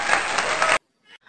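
Audience applause at a school arts festival: a dense, steady burst of clapping that stops abruptly after under a second, followed by brief faint voice sounds.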